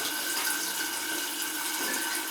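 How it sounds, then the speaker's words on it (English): Tap water poured down an old, cracked washing machine drain pipe, a steady close rushing and trickling stream that stays constant and fairly loud with no speech. "I'm running water down it, so we know it's not backing up."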